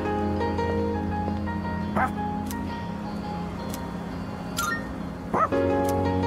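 A dog in Persona 3 Reload gives a few short yips and barks, spaced apart over steady game music, fairly clear but not loud.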